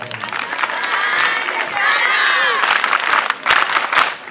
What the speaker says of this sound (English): So let's clap for God